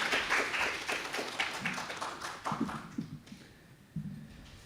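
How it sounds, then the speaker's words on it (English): A round of applause from a conference audience at PyCon JP 2025 welcoming a speaker: scattered, loosely timed claps that thin out and fade after a few seconds, with a couple of late individual claps near the end. "Can we all welcome Kushal Vijay, please, with a round of applause."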